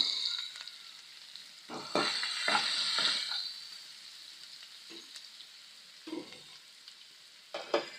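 Ginger-garlic paste hitting browned onions in a pan for an egg masala curry, a brief bright sizzle burst with a few stirring scrapes, then quieter frying with occasional spatula knocks.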